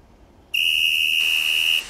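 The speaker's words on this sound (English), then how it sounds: "Soon, the guard's whistle blew and Edwin was off with his train." One shrill, high whistle blast rings out suddenly and holds steady for over a second before cutting off.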